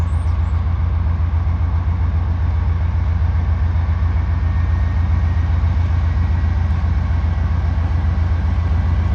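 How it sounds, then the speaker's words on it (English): An Indiana and Ohio Railway freight locomotive running long hood forward, likely pulling gondola cars. A loud, steady low diesel rumble holds constant throughout, close by. "We got an I-0 train coming."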